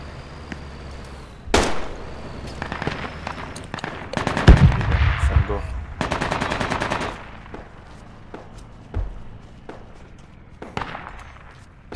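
Gunfire in the military shooter game Project Reality during infantry combat, with loud single shots and sustained bursts of automatic fire, some near and some more distant, echoing over a rumbling background.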